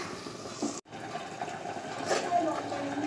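Water is poured into a pan of cooking masala for egg curry, making a steady, low rushing hiss that is faint and continuous and builds slightly toward the end.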